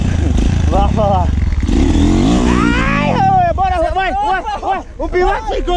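Dirt motorcycle engine on a trail ride in Ouro Verde de Minas, a loud close buzzing drone that revs and fades, soon covered by excited shouting from people nearby.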